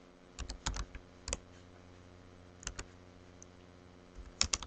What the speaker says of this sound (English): we want to type in the total